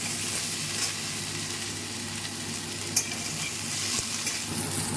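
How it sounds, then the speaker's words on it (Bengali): Potato pieces sizzle and crackle steadily in hot oil, a continuous frying hiss with a few soft stirring knocks, close by and without talk. "এবার আলুগুলোকে ভেজে নেবো একটু"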